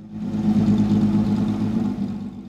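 Rare vintage Delahaye cars driving through the streets of Biesheim in Alsace during a club rally, a steady low engine rumble rising and easing as a vehicle passes nearby, with no talking.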